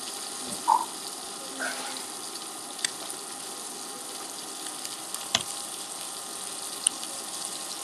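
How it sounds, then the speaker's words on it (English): Food sizzles steadily in a hot pan, a constant crackling hiss with a few sharp clinks and pops scattered throughout. "You like the frying sound?"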